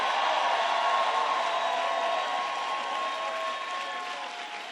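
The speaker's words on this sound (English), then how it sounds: "Give our Attorney General a big round of applause" Crowd applause for New York's Attorney General at a public announcement with Governor Cuomo, a dense, steady wash of clapping that holds loud for several seconds and then eases slightly toward the end, with scattered cheers mixed in.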